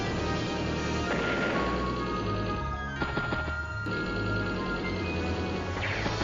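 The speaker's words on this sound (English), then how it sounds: "Artillery strikes the mech" Artillery strike on a mech unit in the turn-based video game Advance Wars: Days of Ruin, a sustained loud barrage of blasts and rumbling impacts layered over steady game music, with a brief lull midway.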